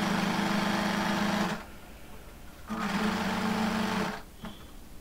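A sewing machine top-stitches along the yoke of a pleated front-open nightie in two steady whirring runs, close and loud, separated by a short pause, then a brief click at the end.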